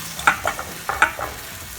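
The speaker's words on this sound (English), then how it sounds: "I'm going to saute my mushrooms now." Mushrooms sauté in a hot pan for beef stroganoff, with a soft steady sizzle broken by a few sharp crackles and stirring clatters, close and moderately loud with no talking.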